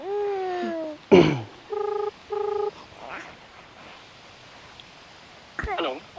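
Phone keypad tones as a call is dialed, a few short beeps in a quick sequence, with a chirpy electronic jingle at the start and a brief burst of another at the end.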